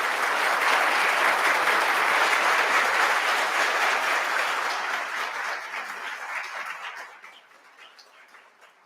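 Sustained applause from a seated audience at a youth dialogue event in Ahmedabad, welcoming a speaker; dense clapping holds steady and loud for several seconds, then fades away toward the end with no talking.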